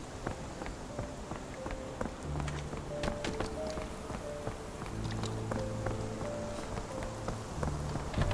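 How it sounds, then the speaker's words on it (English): Steady rain patters on a surface in a video game, a dense continuous fall with a few faint tonal notes drifting underneath. "This dreary rain is making a miserable day even worse."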